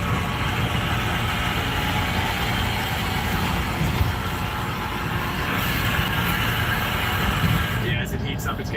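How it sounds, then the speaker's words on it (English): A truck engine idles with a faulty exhaust, a steady rough low rumble running continuously at close range, with a brief burst of brighter noise near the end. "I think something's wrong with the exhaust."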